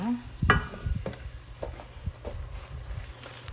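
Spicy Korean-style chicken feet being stir-fried in a pan, a low bubbling sizzle with scattered scraping strokes of a spatula, close and moderately loud, no voices.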